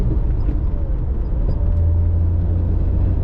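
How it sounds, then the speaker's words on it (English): A 1994 Jaguar XJS with a supercharged 4.0-litre straight six cruises in third gear at low revs, giving a steady, deep engine drone with road rumble inside the car and no talking. "Currently cruising 3rd gear, 2000 RPM, 2005. Barely cruising 3rd gear."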